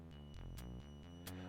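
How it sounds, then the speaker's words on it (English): A low, throbbing electronic hum pulses steadily in the background of the game Rex Nebular and the Cosmic Gender Bender, layered with tonal harmonics and brief bright laser zaps. "a constant sort of hum in the background"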